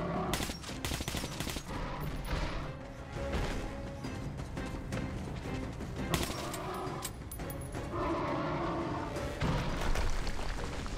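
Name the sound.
gunfire from the video game Metro: Last Light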